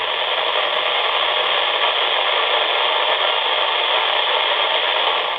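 Baofeng handheld radio receiving at near maximum volume, giving a steady, loud hiss of static that fills the whole stretch without pause.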